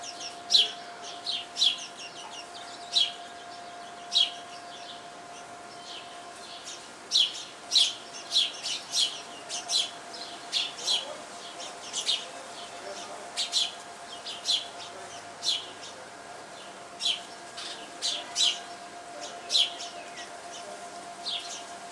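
Backyard birds, sparrows among them, chirp in short, bright repeated calls at a moderate distance, scattered irregularly over a quiet outdoor background with a faint steady hum.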